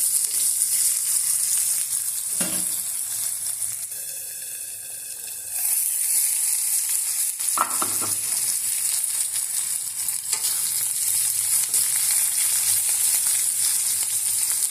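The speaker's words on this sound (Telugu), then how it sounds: "ఇదండి ఉల్లిపాయ, పచ్చిమిరపకాయలు, కరివేపాకు కూడా వేసేస్తాము." Sliced onion, green chillies and curry leaves fry in hot oil, producing a loud, steady sizzle broken by a few clinks and stirring scrapes, close by with no voices.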